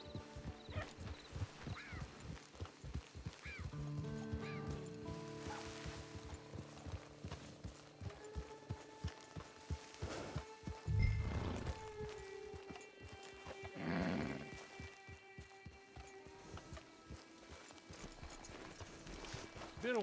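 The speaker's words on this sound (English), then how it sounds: "Get your horse." A horse in the Red Dead Online video game trots with a steady, rapid clip-clop of hooves throughout. Occasional snorts or whinnies and other game sounds are mixed in, and the hoofbeats are moderately loud against the game's ambient sound.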